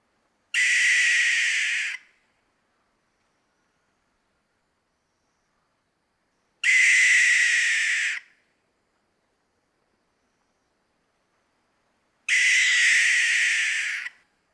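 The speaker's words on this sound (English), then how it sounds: "The barn owl scares me. Just listen." Three long, harsh hissing screeches of a barn owl, each about a second and a half, come at evenly spaced intervals with silence between them, loud and clear with nothing else audible.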